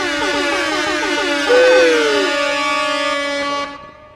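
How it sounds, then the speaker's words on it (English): A loud, blaring triple air horn sounds in one sustained blast for about three and a half seconds, then cuts off abruptly. "and by the way, just for that, Wally, I'm going to give you the triple air horn"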